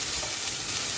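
Fried rice with vegetables sizzles loudly in a hot pan as it is stirred. The hiss is steady and close, with small scraping bumps from the stirring and no talk.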